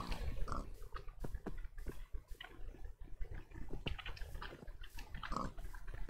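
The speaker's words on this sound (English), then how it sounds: "Gotta keep those pigs growing, right?" Pigs grunting and oinking in modded Minecraft survival on an island, a run of short, fairly close grunts in a busy game mix with no talk over them.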